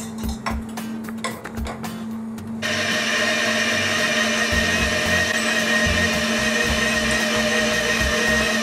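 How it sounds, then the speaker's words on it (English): An electric mixer fitted with a whisk starts up partway through and runs with a loud, steady whirring drone while mixing cooked pumpkin, after some clinking handling sounds. "Take it, put it on the mixer."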